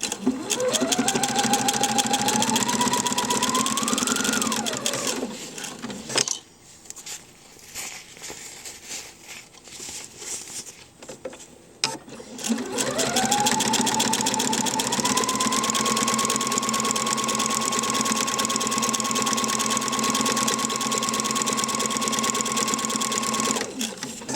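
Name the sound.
sewing machine stitching two pieces of PUL fabric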